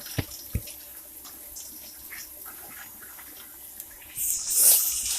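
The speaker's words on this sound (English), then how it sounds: "I'm going to add a little water" Water from a tap poured into a chunky seafood sauce in a home kitchen, a faint trickle under sparse clinks that swells into a louder rushing pour near the end.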